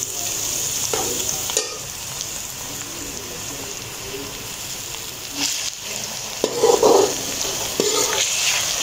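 Ginger garlic paste goes into a pan of light-brown fried onions for tindy gosht, producing a close, steady sizzle with stirring scrapes and a louder burst of spattering near the end.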